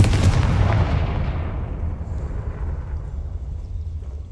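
A fire-spell explosion in the Hogwarts Legacy video game: one loud, sharp blast at the start that fades into a long, rumbling decay.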